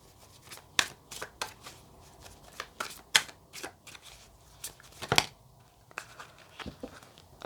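Tarot cards shuffled by hand in a series of crisp riffling bursts and soft slaps, close and uneven in rhythm, with quiet gaps between shuffles and no voices.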